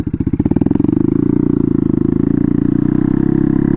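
A turbocharged Honda Grom motorcycle fitted with a swapped-in Honda CBR engine idles cold, a loud, steady, rapid thumping with a rough, sputtering edge that carries on without a break.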